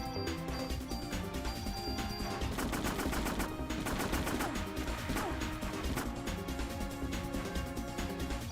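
Gunfire from the PS1 game Parasite Eve as ammo gets sprayed freely: a rapid, continuous stream of loud, crashing shots and impacts runs for several seconds.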